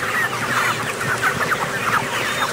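Several healthy, lively farm chickens cluck in quick, overlapping bursts at close range, with no voices.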